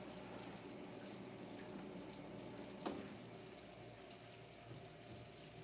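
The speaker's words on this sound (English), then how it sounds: "Let's get this water running." Tap water runs steadily from a kitchen faucet to wash fruit, a soft, continuous hiss with one brief clatter partway through.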